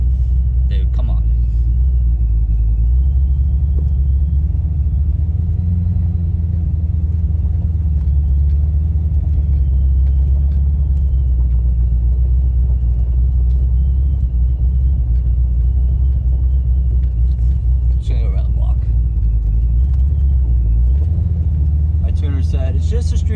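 An $1800 Ford F100 truck rumbles while driving on a street tune, a loud, deep, continuous engine drone with shifting revs throughout, with faint clicks and brief noises near the end.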